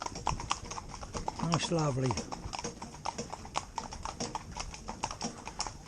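Hooves of young, green ponies in a mixed four-in-hand carriage team clip-clop in a brisk, uneven patter on a road, close by, while a person speaks briefly over them.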